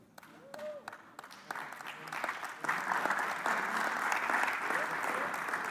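A church audience at a round-table gathering starts to applaud. The clapping is soft at first, then swells into steady, moderately distant applause, with a voice speaking near the start.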